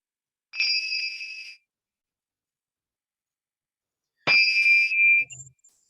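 A small bell rung twice to open an online study group session, each ring a bright sustained tone lasting about a second and fading, with a pause of a few seconds between them, heard alone and fairly close.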